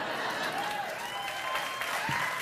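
Continuous studio audience applause on a late-night talk show, a dense wash of clapping filling the whole moment with faint voices mixed in.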